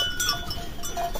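A ten-month-old Boer goat breeding buck raised on pasture gives a short bleat, close and fairly clear with little else around it.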